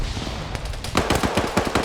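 Rapid automatic gunfire rattles through a video game match, a string of sharp shots starting sparse and then coming in a fast burst, loud and close with no voices over it.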